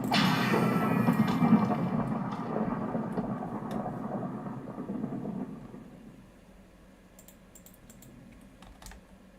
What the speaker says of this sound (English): that sword is making lightning strike